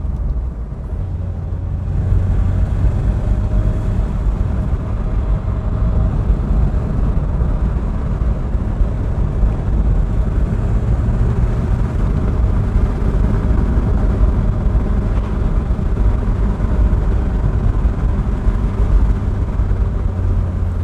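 A 103 bhp Citroën BX on Ling Long tyres drives a winding road from Matakana to Pakiri Beach in New Zealand. Its steady engine and road drone stays loud and constant throughout, with no talking.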